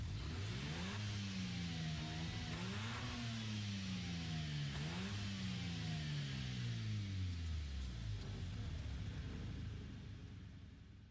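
A car engine in the racing game Gran Turismo 7 revs repeatedly through rising and falling pitch sweeps, loud and close, with gear shifts between each climb before easing down and fading at the end.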